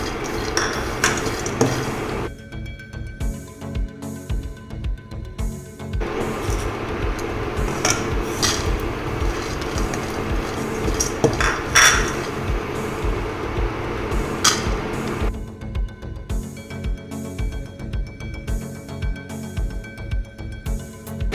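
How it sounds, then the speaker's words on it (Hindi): Chopped nuts roasting in a pan for laddu are stirred with a utensil, giving continuous close scraping and clattering against the metal, with rhythmic bursts of clinks throughout. "नट जो हमने चॉप करे थे वो रोस्ट करें।"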